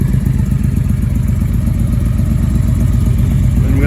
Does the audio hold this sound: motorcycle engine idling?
yes